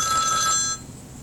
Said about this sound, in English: That's my phone telling me that it's 11:20.